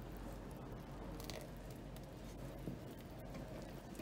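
Homemade strawberry jam with no added water being stirred in a pot, giving soft, continuous wet squishing and faint scraping, steady and close.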